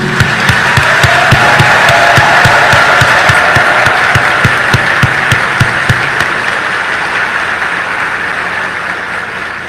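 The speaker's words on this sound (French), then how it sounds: "exprimer notre gratitude par ce tonnerre d'applaudissements" A large audience gives a thunderous round of applause at a political gathering, dense sustained clapping with strong rhythmic beats, loud at first and gradually easing toward the end.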